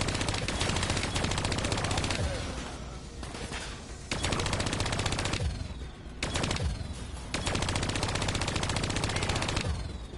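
Heavy automatic gunfire in the Black Ops 3 campaign, aimed at bats: loud, sustained rapid-fire bursts with brief pauses between volleys, crackling shots over a rumbling battle background, no voices.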